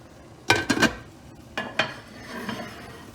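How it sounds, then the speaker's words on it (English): A lid is set onto a simmering pot of chicken jambalaya, making a few sharp metallic clanks close by, a quick double knock, then two more softer clatters, with low bubbling and stirring noise underneath. "We're gonna put the lid on her."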